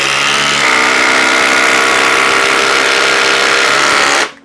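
A Flex cordless power tool on a 3.5 Ah battery driving a fastener, a loud continuous high-pitched motor whine that holds steady for several seconds before cutting off abruptly.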